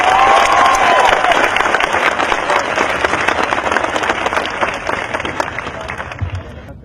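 A loud crowd at a gathering demanding justice for Zubeen Garg claps hands together in a dense, sustained round of applause with some cheering, close and full throughout and fading slightly toward the end.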